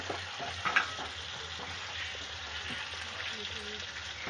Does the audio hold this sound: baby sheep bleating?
no